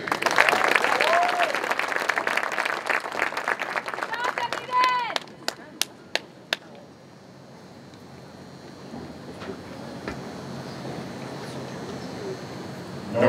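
Applause and clapping for a high school band at a Palm Harbor MPA 2021 performance assessment, loud crowd clapping that thins into a few sharp final claps, then a quieter room with faint murmur.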